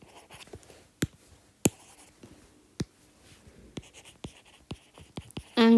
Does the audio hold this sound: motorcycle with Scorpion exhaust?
no